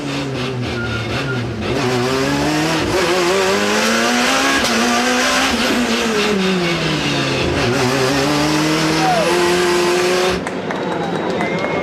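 Loud WTCC touring race car engines roar past together at Porto, Portugal in 2007, pitch rising and falling as they accelerate behind the safety car, with faint commentary underneath.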